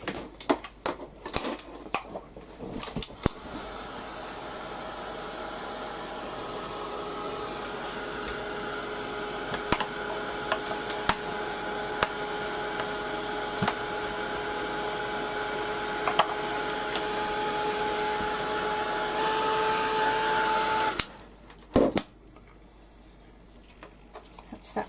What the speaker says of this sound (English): I'm just going to get my heat gun and dry that